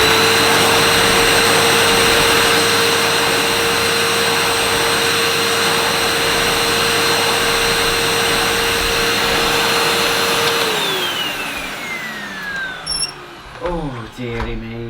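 Hoover T135PS 1300 watt bagged cylinder vacuum cleaner runs on carpet with a loud, steady motor whine, then switches off and winds down with a falling pitch, followed by handling sounds.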